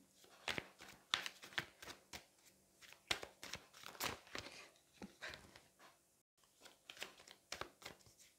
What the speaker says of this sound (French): on va aller prendre une autre carte que je vais venir poser ici